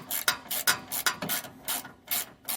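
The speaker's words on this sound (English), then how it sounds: "You can use a 1/2-inch wrench and socket. And again, just tighten them until they're completely snug." A ratchet wrench and half-inch socket clicks in quick bursts while snugging lock nuts on a truck's rear suspension upgrade, with short pauses between strokes, close and clear.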